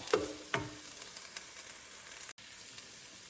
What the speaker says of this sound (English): I just want to saute this just a little bit.